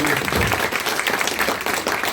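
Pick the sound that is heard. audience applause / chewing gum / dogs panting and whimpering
audience applause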